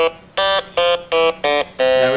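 Electronic keyboard instrument played with a stylus, giving five short, buzzy, reedy notes in a quick rhythmic sequence with the last one held slightly longer, loud and close with no talking.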